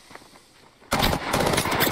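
After a quiet moment, a burst rifle in Apex Legends opens fire in a loud, rapid, sustained volley that lasts to the end.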